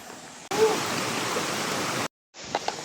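Utod Falls in Magallanes, Cavite pours as a steady, broad rushing roar for over a second and a half, cutting off briefly before softer water noise returns.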